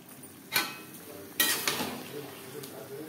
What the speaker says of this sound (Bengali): এই পর্যায়ে দিয়ে দেব গোবিন্দভোগ চাল